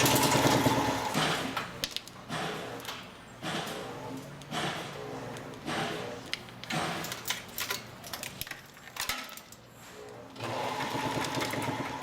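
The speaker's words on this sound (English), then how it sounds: "The breakout is pulled through and the taping process resumes." An automotive wiring harness taping machine runs in steady, buzzing bursts, stopping briefly and starting again as tape is wound onto the harness, fairly close and without any talk.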